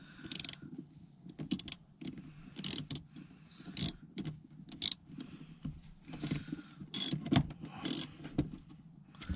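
Torque wrench tightening a bolt to 20 foot-pounds on the brake servo of a Volvo P2-platform car; close, repeated ratcheting clicks and metallic mechanical rattles in uneven bursts.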